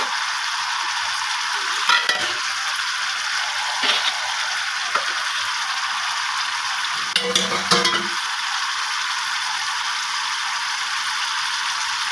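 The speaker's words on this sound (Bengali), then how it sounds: "ঝোল কষতে নেড়ে দিই।" Fish curry gravy simmers and fries with a soft constant sizzle while a spoon stirs it, scraping bursts and clinks around the pan coming at irregular intervals.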